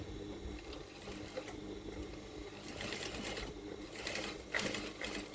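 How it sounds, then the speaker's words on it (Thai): A sewing machine stitches along a pressed pleat groove on a trouser slanted side pocket, a close, steady mechanical whirring hum that runs continuously with slight surges and no voices. "เราก็เย็บตกร่องเลย"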